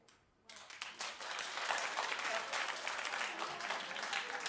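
Studio audience on a daytime TV talk show breaks into steady applause after a brief quiet moment, the dense clapping filling the room at an even level to the end.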